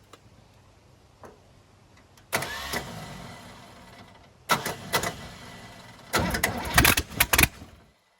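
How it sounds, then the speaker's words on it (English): A V8 engine swapped into a car in place of an inline six cranks on its starter in bursts, then catches and runs, loud and close with no talking. "now we have a V8 that starts in the car"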